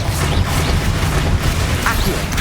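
Confringo fire-spell blasts in the Hogwarts Legacy video game burst in a dense, noisy series of booming crashes, loud and continuous, with a voice speaking in the middle.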